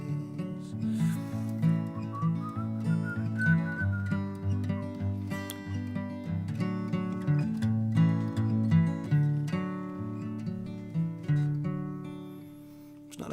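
A brief rising whistled melody drifts over a live acoustic song with strummed instruments and steady rhythm, fairly close and moderately loud, blended into the music rather than standing apart.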